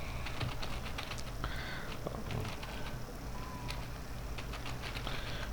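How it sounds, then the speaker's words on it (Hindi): Fast keystrokes patter across a computer keyboard as headings are typed into a spreadsheet, a quick, irregular run of light clicks held close over a low background hum. "जल्दी से जो है अपनी हेडिंग को आपने टाइप करा"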